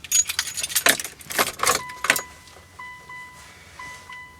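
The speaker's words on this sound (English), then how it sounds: "I'm going to turn the car on." Keys jangle and rattle as they turn in the ignition of a 2002 Mitsubishi Lancer, followed by steady electronic dashboard chimes beeping quietly.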